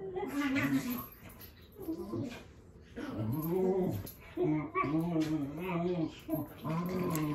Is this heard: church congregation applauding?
no